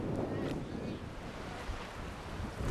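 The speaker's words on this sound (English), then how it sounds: "on the cliffs above the raging South Atlantic Ocean this afternoon. Some very windy exposed sites" Strong wind and crashing surf of the South Atlantic Ocean below exposed clifftops near albatross and rockhopper penguin nesting sites, a steady loud roar with heavy low rumble throughout and no voices.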